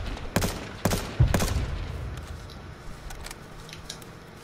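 Gunfire in the battle royale game H1Z1, with three loud close shots in quick succession followed by fainter distant pops trailing off into a quiet background.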